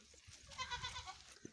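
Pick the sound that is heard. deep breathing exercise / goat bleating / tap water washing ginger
goat bleating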